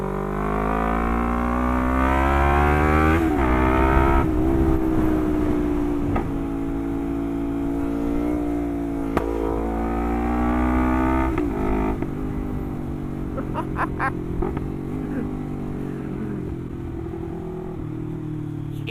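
A Lexmoto LXR380 motorcycle with a loud open exhaust idles and revs repeatedly, its deep engine note rising and falling in strong, close blips over a steady rumble.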